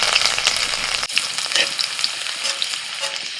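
Dry red chillies, green chillies and chopped garlic fry in oil, a close, busy crackling sizzle with sharp pops and a stirring scrape partway through.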